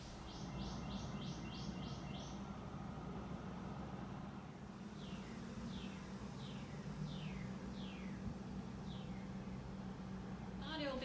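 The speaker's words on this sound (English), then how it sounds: "I heard lots of birds singing and chirping outside of my window" Birds sing and chirp outside a window, repeated rapid chirp series and descending whistled calls over a low steady background hum of distant traffic, moderately faint.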